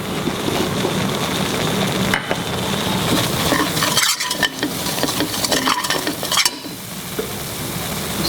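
Masala with ginger garlic paste and roasted cumin sizzles loudly for mutton kofta curry, a dense, close frying hiss with intermittent stirring scrapes and light knocks from a spoon.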